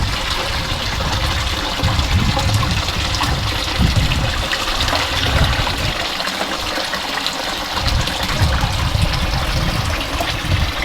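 Water runs and splashes steadily in a backyard koi pond in autumn, a close, continuous trickling gush with no voices.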